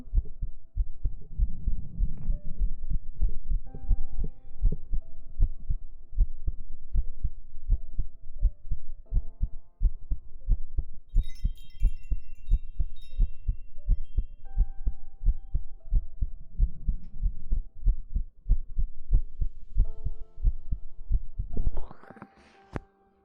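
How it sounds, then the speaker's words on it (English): Amplified heartbeat thumps play steadily through a 3Dio binaural ASMR microphone setup, a deep, regular lub-dub pulse with a faint hum beneath, close and continuous until a brief rustle near the end, with no talk. "I'm glad that you enjoy the heartbeats."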